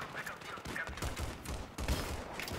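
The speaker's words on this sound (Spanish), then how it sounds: "me están disparando" Gunfire in Battlefield 3 on the Operation Sabalan Pipeline map: bursts of shots crackle in a steady, noisy stream of battle sound. Nobody speaks over it.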